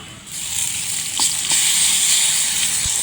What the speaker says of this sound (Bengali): এখন হচ্ছে আদা রসুন জিরে বাটা গরম মশলা বাটা দিয়ে দেবো